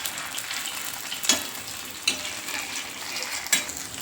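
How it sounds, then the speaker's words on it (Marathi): Hara bhara kebabs fry in hot oil with a steady bubbling sizzle, broken by a few sharp clinks and splashes as they are turned, close by with no voices. "हे तेल असतं ना, तर हा जे लाल झालेत कबाब त्यांना वरती काढून घ्यायचे, म्हणजे ते छान प्रकारे फ्राय होतात."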